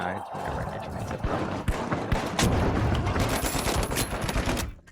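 Rapid gunfire from an online team shooter game, The Finals, crackles in dense bursts across the whole stretch, mixed with game effects and players talking over it.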